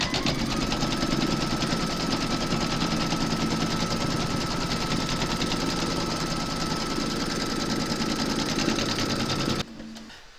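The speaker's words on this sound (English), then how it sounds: "pop your hoop into your machine and stitch round number 3" A machine embroidering an appliqué of Mrs Claus stitches in a fast, steady, loud mechanical rattle up close, running continuously before stopping abruptly near the end.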